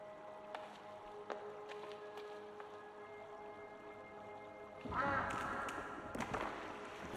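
King Quack, a duck in the game Tsioque, gives a burst of quacking near the end, loud against a quiet backdrop of faint dripping and ambient game sounds.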